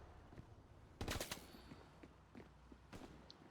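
Machine gun fire in the Hell Let Loose video game comes as one short, fairly distant burst of rapid shots, followed by quieter scattered pops.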